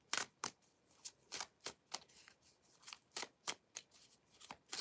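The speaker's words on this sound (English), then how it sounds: "We'll do a shuffle." A deck of inspirational cards being shuffled by hand, a quick run of about a dozen crisp riffling bursts in an uneven rhythm, close and fairly quiet with nothing else around them.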